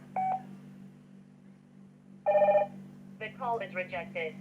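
Hikvision DS-KC001 video intercom being dialed and placing a call: a short key beep, a longer tone, then a rapid string of ringing tones over a steady electrical hum, close and clear.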